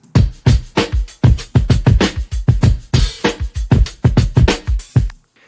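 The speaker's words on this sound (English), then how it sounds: "there's just a drum loop with some ghost kicks," A basic drum loop with ghost kicks, hi-hats and shakers plays alone: a steady, dense run of punchy hits with quick hat and shaker ticks between them, loud and close, stopping cleanly at the end.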